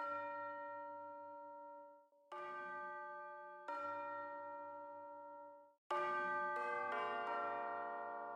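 Bell hits in an orchestral music mix, struck four times in slow succession, each ringing with bright sustained overtones that decay before the next strike, the last one louder and denser.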